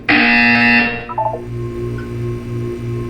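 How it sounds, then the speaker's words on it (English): A loud, harsh electronic buzzer blares for about a second, then cuts off into a low steady hum with faint tonal blips. "You will hear a buzzer."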